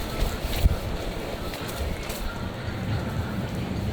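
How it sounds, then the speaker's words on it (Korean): Gusty wind blowing outdoors at a campsite on Ulleungdo island, a steady broadband rush buffeting the microphone close up, with a few faint thumps and no clear talk. "무섭디야 바람 불어서"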